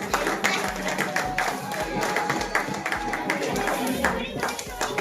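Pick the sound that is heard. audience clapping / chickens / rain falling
audience clapping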